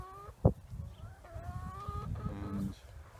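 On a Cornwall farm, hens cluck and a cockerel calls among them in drawn-out, wavering notes, with a sharp knock early on and a low rumbling background throughout.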